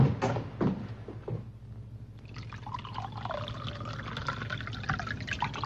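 Brandy being poured into a glass at a 1939-era social gathering, a steady liquid trickle running for a few seconds after some brief clinks and handling sounds, close and moderately loud with no talk over it.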